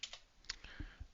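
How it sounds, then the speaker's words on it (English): A few separate computer keyboard keystrokes and clicks sound at close range, uneven and spaced out, with no speech over them. "So I'm going to type that in here as well."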